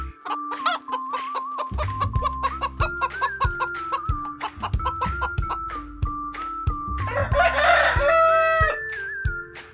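A farm hen clucks in quick, repeated bursts over a light background tune, and a louder crowing call rises near the end.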